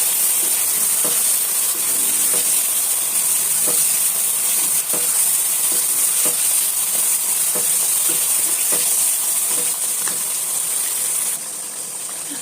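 Meat and vegetables for aloo matar gosht being stirred and fried in a pot, a steady close sizzle with soft scraping strokes of the spoon repeating through the whole stretch.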